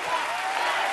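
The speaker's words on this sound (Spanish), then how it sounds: "fuerte el aplauso para Cesia de Honduras" An audience claps and cheers after a singer's performance on a talent show, a dense, steady wash of applause throughout the short stretch.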